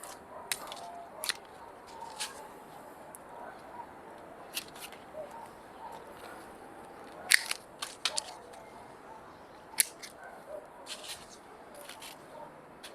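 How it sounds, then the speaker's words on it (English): Pruning shears snip through young citrus tree branches, with sparse, faint, sharp clicks and cuts spaced irregularly over a quiet outdoor background, with no talk. "So I always prefer to just cut and get it done that way."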